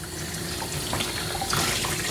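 Running water splashes steadily while a miniature poodle is rinsed during grooming, a continuous close hiss of flowing water with no talking.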